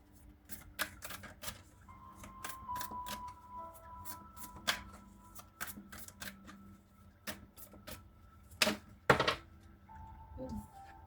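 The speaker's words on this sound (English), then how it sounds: "Let's pull some Moon Oracle cards" Moon Oracle cards are shuffled in a rapid series of crisp riffling snaps and soft flutters, close and fairly loud, with a faint tonal hum lingering behind the card noise.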